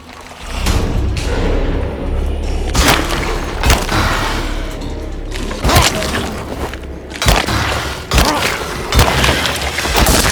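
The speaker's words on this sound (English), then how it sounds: "My weapon broke" In the horror game Alone in the Dark, a weapon cracks and splinters like breaking wood amid loud, booming impacts, with several sharp hits spread across the stretch.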